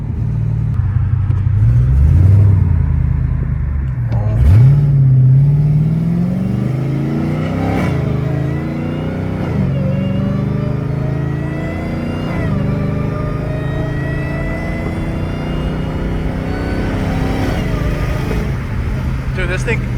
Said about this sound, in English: it's just straight exhaust now